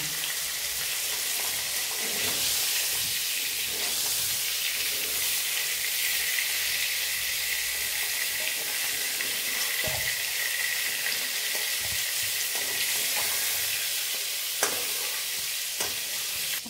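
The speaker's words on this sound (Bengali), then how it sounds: "এই পটলটাকে ভেজে নিয়েছি।" Pointed gourd (potol) fries in hot oil in a pan, giving a constant soft hiss with occasional scrapes and taps from stirring, fairly quiet and close, with no voices.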